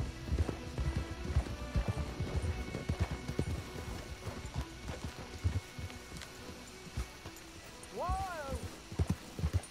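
Steady, rapid hoofbeats of galloping horses pound throughout, with a horse's whinny rising near the end over a busy background, from the video game Red Dead Redemption 2.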